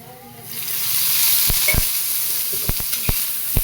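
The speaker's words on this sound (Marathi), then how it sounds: "असं थोडंसं पालती उलटं करून भाजून घ्यायचं चांगलं व्यवस्थित पण आता तेल टाकून घेऊया थोडंसं याच्यामध्ये" Tomatoes and green chilies roast in oil in a pan, a bright sizzle rising after a quiet start, punctuated by several sharp knocks and scrapes of a spatula.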